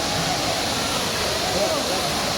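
The Savdav waterfall near Kankavli gives off a steady, dense roar of falling water, loud and unbroken from start to finish.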